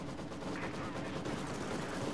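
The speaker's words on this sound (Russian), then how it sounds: "классный сам выстрел" Gunfire in the Company of Heroes 2 strategy game crackles as a dense, rapid burst of distant shots, a steady rattle of small-arms and machine-gun fire under a noisy mix without clear speech.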